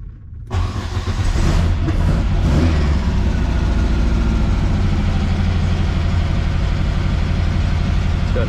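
A 1965 Volkswagen Beetle engine cranks briefly and catches, then settles into a loud, steady low-pitched idle close by, running cold with an even rumbling beat and no talking.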